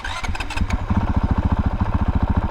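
Close Honda CRF450RL dirt bike engine, hot and fitted with an aftermarket ECU, cranks briefly with a labouring starter, catches, and settles into a fast, even chugging idle with regular pulsing beats.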